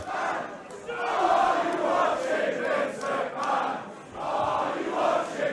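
A pro wrestling crowd chants in rhythmic, swelling waves during a Young Bucks versus War Raiders tag team match at Refuse To Lose 2017, filling the arena with loud, repeated crowd voices.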